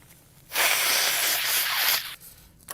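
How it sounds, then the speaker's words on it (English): A single loud, sustained blast of breath through the nose lasts about a second and a half, close to the microphone, with quiet before and after. "while I'm blowing my nose"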